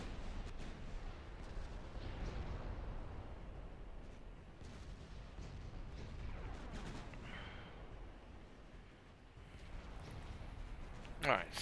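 Battleship artillery in Ultimate Admiral Dreadnoughts booms as a low, rumbling barrage of gunfire and explosions, rolling continuously with a sharper crack near the end, while a voice talks over it.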